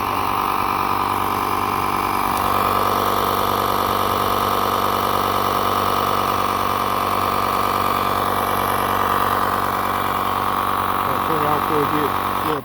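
A Slime tire inflator compressor runs continuously at steady volume, a constant mechanical drone with a motor-like hum throughout, while people talk over it.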